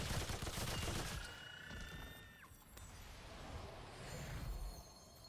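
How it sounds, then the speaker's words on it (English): A burst of machine gun fire in a video game, loud and rapid in the first second, followed by mechanical reload clicks and a rising whine, then quieter distant shots and game ambience. "The reload on it's not that bad for a machine gun."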